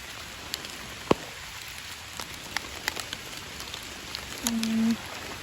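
Rain falls outdoors during mushroom picking: a soft, steady patter with scattered sharper drops and knocks, and a short tonal sound near the end.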